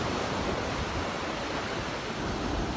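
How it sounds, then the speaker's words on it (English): Ocean waves crash onto a beach in high winds, a dense, continuous roar of surf with no pauses, steady and loud throughout. "to hear that kind of, you know, sounds and the waves crashing"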